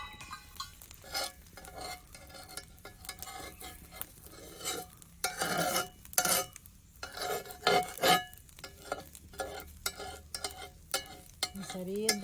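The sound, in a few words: dosa batter sizzling on a cast iron pan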